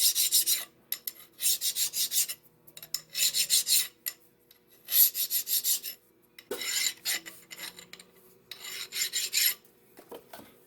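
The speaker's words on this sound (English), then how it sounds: "And then we'll deburr this side." Hand file deburring a lathe lead screw bearing mount, crisp rasping strokes in rhythmic bursts of four or five, close and clear with short pauses between sets and no talk.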